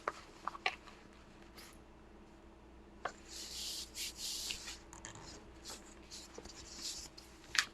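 A sheet of paper folded in half along a crease, with close, quiet rustling and sliding rubs broken by a few sharp crisp taps and creases.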